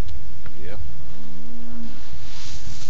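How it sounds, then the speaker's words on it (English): A cow in The Walking Dead video game lets out a single low, drawn-out moo over a loud, constant rumbling background. "How's the cow?"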